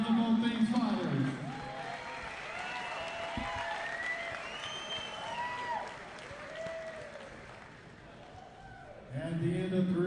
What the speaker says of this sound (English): let's give a big round of applause to both these fighters